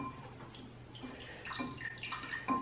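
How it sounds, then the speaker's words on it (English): Water is poured into a homemade slime mixture, a quiet trickling and splashing that swells slightly toward the end, with no talking over it. "So I'm just gonna add some water."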